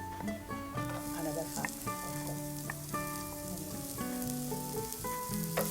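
Onion fries in a tablespoon of oil in a pan with a soft, continuous sizzle. Faint tonal sounds run over the frying and no one speaks.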